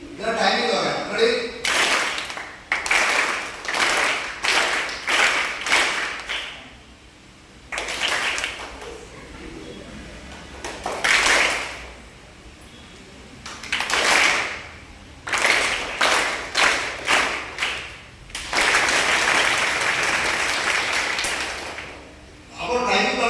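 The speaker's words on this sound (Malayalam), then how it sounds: "ഞാൻ താഴെ വെക്കുന്നത് നിങ്ങൾ ക്ലാപ്പ് ചെയ്തോ." Children at a theatre workshop clap together in bursts of rhythmic beats, with loud group claps broken by short pauses and a long final stretch of continuous clapping.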